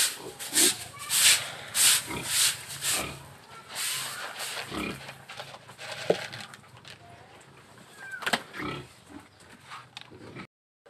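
Pigs on a rural Filipino farm grunt and snort in repeated bursts while being fed, loud and close at first, then sparser grunts with a few squeals and a hissing background.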